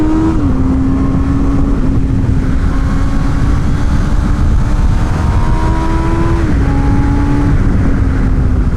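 Honda CB650R 650cc inline-four motorcycle engine on a bumpy race track, loud and close, holding a high steady whine with pitch shifts as it changes gear and pulls, no talking.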